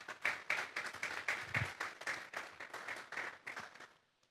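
Applause from a church congregation during a sermon on Psalm 23, with separate claps at a lively, uneven rhythm for several seconds. It sounds fairly close and moderate in level, then fades out at the end.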